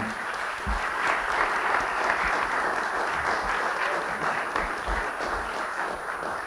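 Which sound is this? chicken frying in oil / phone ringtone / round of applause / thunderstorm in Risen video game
round of applause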